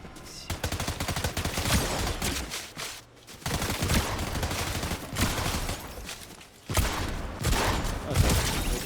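Repeated bursts of automatic gunfire from the Fortnite video game, dense and loud, rattling in long volleys with brief pauses around the three- and six-second marks before resuming.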